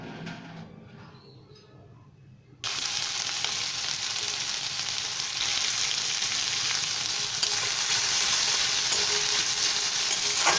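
A large chopped onion dropped into hot oil in a pan, bursting into a loud, continuous sizzle after a quieter start, frying steadily with some stirring.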